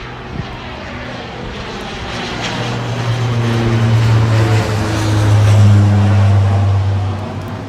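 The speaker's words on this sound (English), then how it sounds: "Oh, airplane." A fixed-wing airplane passes overhead on a rainy, cold day in Tokyo, its engine roar swelling steadily to a peak and then fading slightly, alone without speech.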